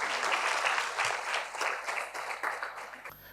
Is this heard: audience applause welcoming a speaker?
yes